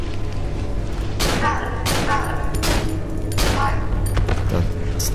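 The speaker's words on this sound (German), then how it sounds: "So, zwei Schüsse." Two gunshots fire in the horror video game Cry of Fear, sharp bursts standing out over a steady low in-game hum, with a few other thuds and clatters scattered around them.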